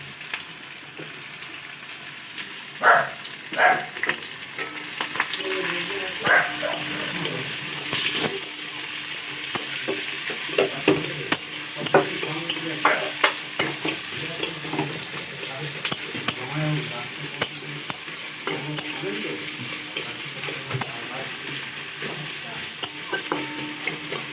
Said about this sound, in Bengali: আমি লাল করে ভেজে নেব